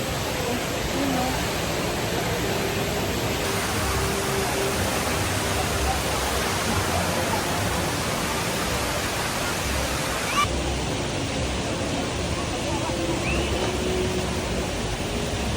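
The Jewel waterfall at Singapore's airport roars as a steady, dense rush of falling water heard from nearby, broad and unbroken for the whole stretch, with voices faintly mixed into the wash.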